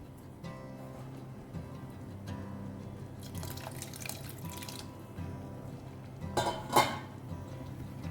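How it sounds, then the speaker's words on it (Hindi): Water splashes and trickles into a simmering Goan-style prawn curry, with a louder pour near the end over a steady kitchen background hum. "बस थोड़ा सा ही मैं पानी ऐड करूँगी।"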